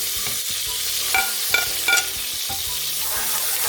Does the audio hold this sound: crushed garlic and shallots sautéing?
yes